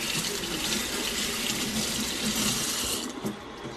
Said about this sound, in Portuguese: Deixa eu passar uma água nela.